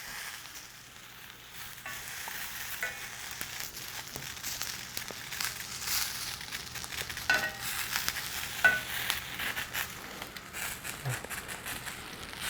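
Asparagus sizzles faintly on a grill pan, a soft, even frying crackle that runs throughout with occasional light scrapes and shuffles from turning the spears.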